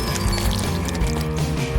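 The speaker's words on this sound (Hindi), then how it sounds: "चलो अब चॉकलेट इसमें डाल देता हूँ।" Chocolate poured into a chocolate fountain fondue setup, a continuous liquid pouring sound with faint clinks, steady and fairly loud with no talking.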